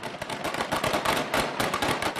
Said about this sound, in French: Le forcené armé est immédiatement stoppé par des dizaines de coups de feu.